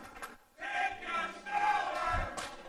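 A wrestling crowd roars and jeers at Eric Rosecroft during an elimination gauntlet match, a loud swelling din of many voices that rises, dips briefly and surges again, with a low thump near the end.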